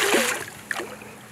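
A hooked fish splashes at the surface of Lake St. Clair in New South Wales, a brief wet slap and spray close by, over faint background noise.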